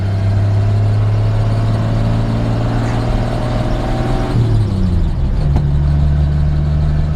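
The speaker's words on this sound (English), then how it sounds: "sometimes you got to crank them 3 times" A 1954 Chevrolet 3100 pickup truck's engine cranks and runs with a loud, steady low rumble, then shifts character partway through as the idle settles into a new, even drone.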